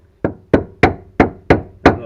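A flat-ended screwdriver is struck to knock a fuel pump locking ring round on an EP3 Honda Civic Type R, giving six sharp, evenly spaced metallic taps at close range.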